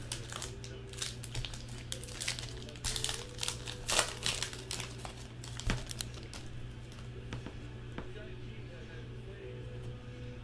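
The plastic wrapper of a trading card pack crinkles and tears open close up in quick, irregular bursts, fairly quiet over a low steady hum.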